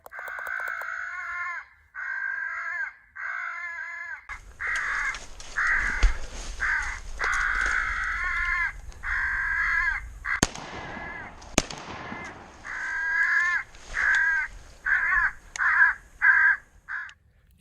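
Crow calls from an electronic caller set up for a crow hunt, a run of loud repeated caws in bursts with sharp gunshot-like cracks mixed in, no talk.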